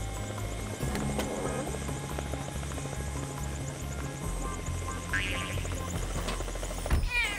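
A helicopter's rotor throbs steadily and fairly loudly throughout, with a busy layer of other sound over it and a brief sharper burst near the end.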